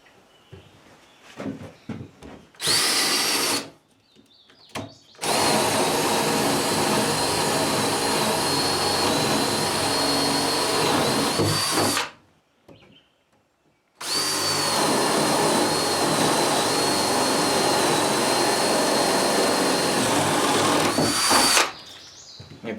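A power drill whines in sustained bursts as it bores into the center of a wooden wall stud: a short run, then two long steady stretches of drilling, with brief pauses between them.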